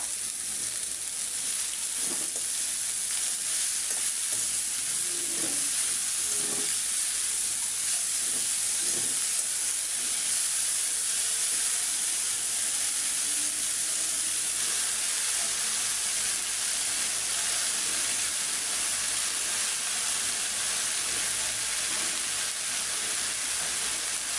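Chopped potato greens frying in a pan give a steady, close sizzling hiss throughout, with faint crackles and pops scattered over it and no voices.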